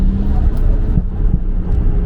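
Nissan Skyline R32 running a cheap turbo, its engine and exhaust giving a loud, deep, close rumble that holds steady with slight pulsing throughout.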